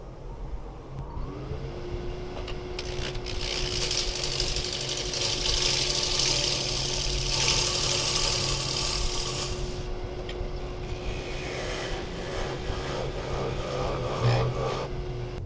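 Wood lathe spinning a small walnut bowl while the outside is turned, a steady motor hum with a constant whine and rushing, scraping tool noise that swells and fades across the pass.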